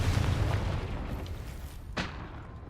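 The Confringo fire spell goes off in Hogwarts Legacy, a low rumbling boom followed by a sharp, brief burst near the end of the short moment, with no voices.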